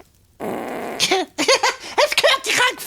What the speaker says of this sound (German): Es gehört, ich habe gefurzt.